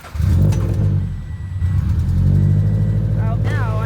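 A Mazda RF Miata fitted with an ISR circuit spec exhaust idles in a deep, throaty, steady rumble heard from inside the car, with a voice talking over it and a brief rising whine near the end.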